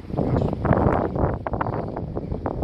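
Strong wind buffets outdoors around a pigeon loft, roaring and gusting into the microphone in uneven surges while people talk.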